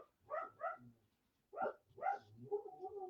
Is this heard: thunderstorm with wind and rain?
no